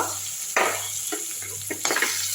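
Curry leaves, grated ginger and green chili hit hot oil in a pan with mustard seeds, giving a steady sizzle and bursts of crackling spatter, close and fairly loud, with no talking.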